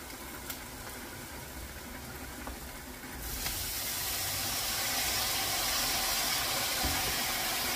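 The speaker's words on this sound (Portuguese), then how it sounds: "Aqui, ó, já tô refogando pra fazer a berinjela." Eggplant sautéing in a pan, a steady broadband sizzle that swells louder after a few seconds and then holds constant, close and continuous with no talk.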